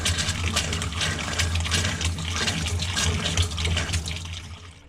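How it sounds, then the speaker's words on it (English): Water runs steadily from a boat's galley faucet into the sink, a continuous close splashing rush with no pauses that fades slightly at the very end. "let's go ahead and check the galley and see that water's coming out there"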